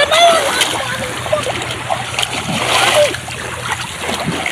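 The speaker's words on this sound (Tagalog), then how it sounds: "naliligo na sila sa dagat." Water splashes and sloshes close by as people bathe in the sea, with steady surf wash underneath, irregular splashes throughout and voices chattering and calling out over the water.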